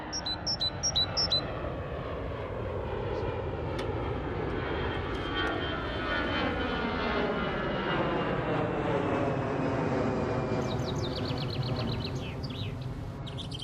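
A loud airplane passes overhead, its broad engine roar sweeping across the whole clip, with faint bird chirps above it near the start and end.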